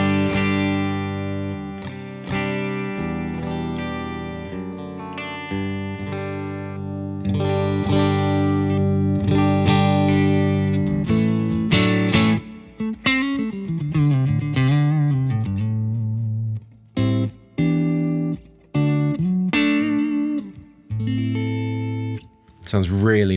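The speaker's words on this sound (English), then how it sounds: "let's just start with the guitar and how it sounds" A clean electric guitar plays chords and single notes through a Morgan MVP66 amplifier with low gain, ringing with a touch of reverb and brief pauses between phrases.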